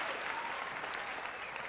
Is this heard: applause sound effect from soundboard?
yes